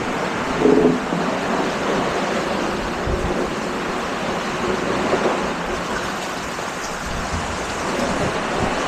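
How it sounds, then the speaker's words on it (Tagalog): Strong wind blows during Typhoon Paolo as a broad, steady roaring rush with slight surges, loud and unbroken for the whole stretch. "Mas malakas yung hangin"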